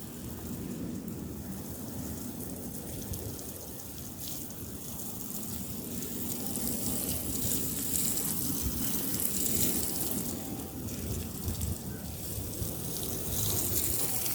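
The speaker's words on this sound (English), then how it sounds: "I'm just wetting up the rest of the compost bed, just to kind of get things going." Water pours and splashes onto a compost bed at an allotment, giving a steady, broad hiss and spatter that runs continuously and close, swelling slightly as it goes.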